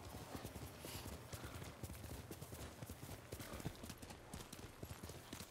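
Horse hooves clip-clop steadily through a forest setting in the Ghost of Tsushima video game, a continuous trotting rhythm that sits fairly faint within the game's ambient sound.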